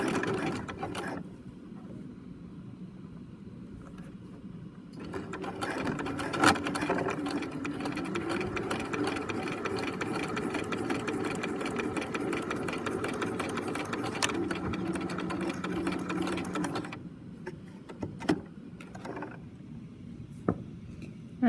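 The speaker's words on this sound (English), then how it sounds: "I'm gonna put down my presser foot, hang on to my threads. I'm gonna back stitch to the edge" A sewing machine back stitching across the bottom of an elastic wallet, its motor whirring in a steady continuous run of about twelve seconds between quieter handling, close by, with no speech.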